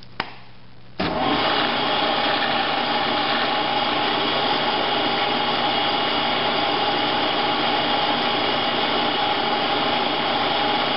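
A metal lathe spins steadily while a center drill bores into the workpiece, making a continuous close-up machine whine that starts after a short quieter moment and then holds an even level.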